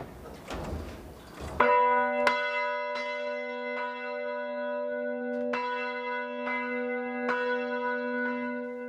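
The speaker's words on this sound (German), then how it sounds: "lassen das Sonntagsgeläut am heutigen Mittwoch" A church's full Sunday peal, set off through a hacked bell control system, rings out after a brief noisy start: several bells sound together with long sustained hum and repeated strikes at an irregular rhythm, clear and resonant.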